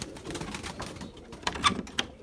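Pigeons in a loft in Izmir coo softly in short, low, rounded calls that come in a loose series, faint and a little distant, with no voices over them.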